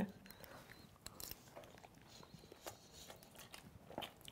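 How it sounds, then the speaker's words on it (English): Someone chews a mouthful of restaurant noodles close to the microphone, with soft, irregular wet biting and mashing sounds repeating quietly throughout. "I like the extra sound effects of the chewing too."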